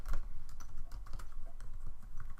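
Fast, uneven clatter of keys on a computer keyboard, close and steady, with no voices over it.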